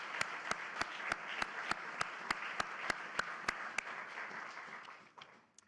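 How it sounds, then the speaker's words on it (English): An audience at the White House signing of the Inflation Reduction Act applauds, a dense even wash of clapping with sharp individual claps standing out, fading away near the end. "Let's have a round of applause for the great staff, White House and Senate."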